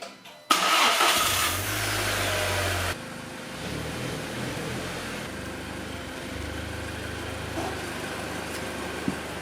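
A 2013 VW Golf R cranks and fires with a loud burst that settles into a steady, lower idle, heard close up from inside the car with no voices.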